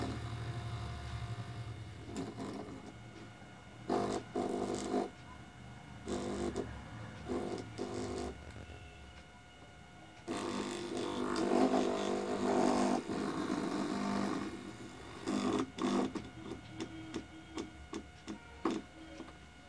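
A DC motor runs on AC mains power, giving a steady, close hum with a rattling, ticking texture that swells and fades in several bursts, and no talking over it.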